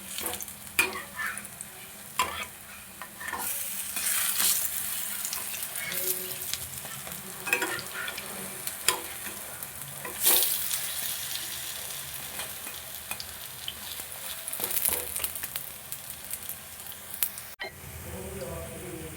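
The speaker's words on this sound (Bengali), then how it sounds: "উল্টে পাল্টে পাউরুটির সব দিকটা আমি সমানভাবে ভেজে নেব" Batter-dipped bread slices frying in a little oil in a pan, with a continuous close sizzle, scraping stirs as pieces are turned, and a voice faintly present.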